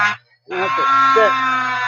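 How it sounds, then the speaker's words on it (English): A short electronic beep sounds during a workshop build of a toy blaster, a loud buzzy tone that breaks off and returns as a sustained warbling alarm-like sound, with a voice speaking under it. "Oops, little beep there."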